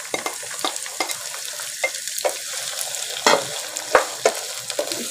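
Kachnar buds frying in oil over a low-medium flame, a steady soft sizzle with repeated sharp clinks and scrapes of a stirring spoon against the pan.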